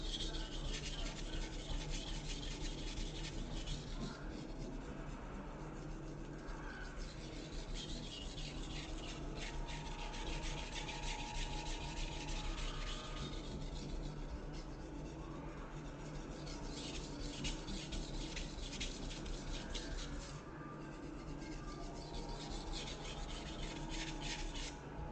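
A kitchen knife is stroked back and forth over a flattened whetstone slick with slurry, giving a steady close-up rasping scrape that continues without pause and without talk.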